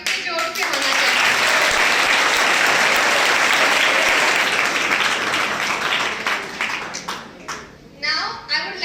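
An audience gives loud, dense applause to welcome guests at a gathering, sustained for several seconds before thinning into scattered claps and tapering off.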